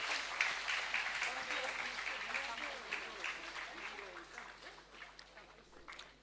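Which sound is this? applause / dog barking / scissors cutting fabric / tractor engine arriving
applause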